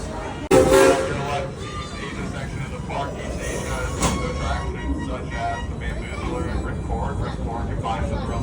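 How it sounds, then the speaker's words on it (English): The Worlds of Fun Railroad, an amusement park train ride, rumbles and clatters steadily throughout, with a sharp burst near the start and indistinct voices mixed into the ride noise. "we're going to take a break from the coasters and hit up the World of Fun Railroad"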